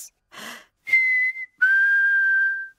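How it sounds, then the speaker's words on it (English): Mummy Pig whistles in a cartoon, a soft breathy attempt followed by two clear sustained whistled notes, the second long and steady, alone and close. "Oh, yes. Mummy Pig can whistle."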